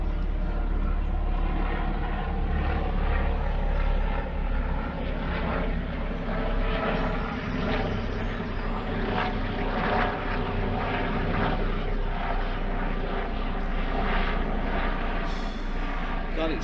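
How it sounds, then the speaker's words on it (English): A helicopter or light aircraft drones steadily overhead through the whole stretch, a constant loud engine rumble over a garden where onions and garlic are being harvested, with a person talking now and then beneath it. "Helicopter going over there"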